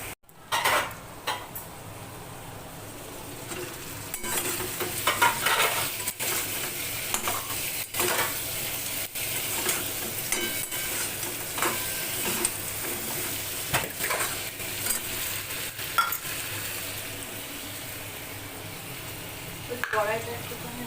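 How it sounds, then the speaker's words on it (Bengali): Potatoes frying in oil in a kadai until reddish, an ongoing sizzle broken by repeated metal spatula scrapes and clinks against the pan, with people talking at times. "এবার লাল লাল করে আলুটা ভেজে"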